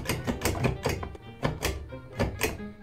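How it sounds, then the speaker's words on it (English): Repeated hollow thunks and clunks of a bathtub shower diverter knob, about seven in quick irregular succession, muffled and moderately faint, as if in another room. "It's that goddamn flippy thingy that you pull up on bathtubs to make the shower head come on."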